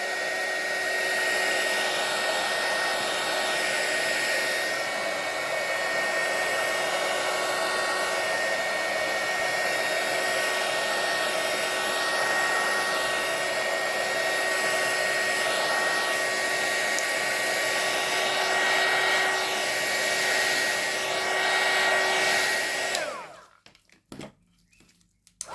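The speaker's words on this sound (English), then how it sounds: "blast with my heat gun" A heat gun blasts hot air across fresh resin art with alcohol ink, real leaves and flowers, a loud steady roar with faint tonal whine held for over twenty seconds, then cut off abruptly.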